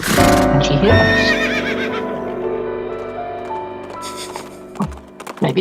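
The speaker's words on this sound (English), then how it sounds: "a horse riding off into the sunset" A horse gives a loud, close neigh with a long whinnying trill, followed by scattered hoof clip-clops and thunks as it fades.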